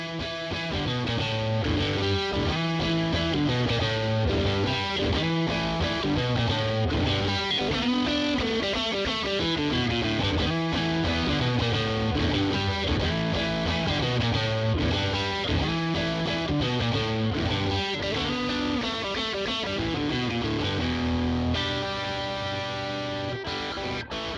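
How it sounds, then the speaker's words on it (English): Electric guitar through a Boss OS-2 overdrive/distortion pedal plays a chunky riff at steady loudness, heavily overdriven, thick and saturated, with no voices. "the Boss OS-2 is kind of a 90s rock staple. It's an overdrive distortion."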